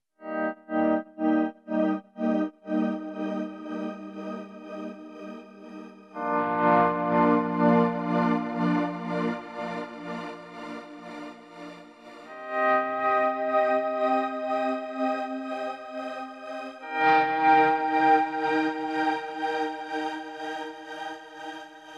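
Electric guitar through a tremolo plug-in with a heavily processed tone: choppy pulsing chords at first, then sustained wavering chords rising and falling in volume.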